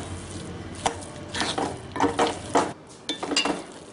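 Sheera, a sweet semolina dish cooked with jaggery, being stirred in a pan with fried cashews mixed in, giving a series of close scraping and clinking strokes in uneven bursts with short pauses, no talking.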